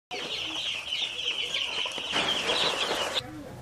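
Chickens raised on a small poultry farm cluck and squawk together in a loud, close, busy chorus that runs without pause and drops off abruptly at the end.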